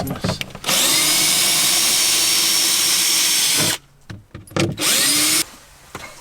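A power drill drives in three screws, with a long loud sustained whir of the motor, then a pause with small clicks and bumps, then a second burst of drilling, all close up.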